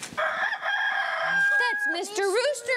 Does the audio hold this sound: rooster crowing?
yes